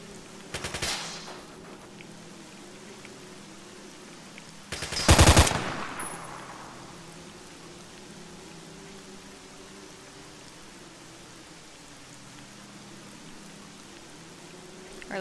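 Gunfire in the video game STALKER Autumn Aurora: two sharp bursts of shots, a short one near the start and a louder, denser one around five seconds, followed by a long stretch of quiet ambient hum.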